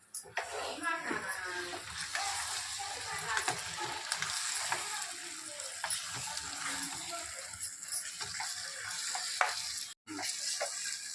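Chili powder sizzles and fries in hot oil for a village-style chicken biryani, with steady crackling and stirring and people talking over it.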